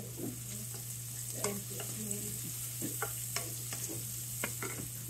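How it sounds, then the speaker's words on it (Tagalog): Carrots fry after onions in a pan, giving a soft, steady sizzle broken by frequent light stirring scrapes and taps against a low background hum. "Then, lutuin na natin si carrot."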